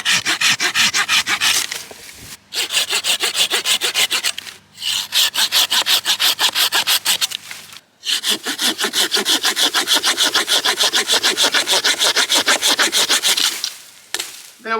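Fiskars Powertooth folding saw cutting through branches outdoors, fast rasping back-and-forth strokes in long continuous runs with brief pauses, close and loud, no talking.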